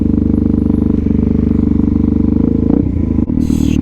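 Suzuki DRZ400SM fitted with an FCR39 carburetor running on snow, its single-cylinder thump loud and close in a steady pulsing beat, shifting near the end as revs change.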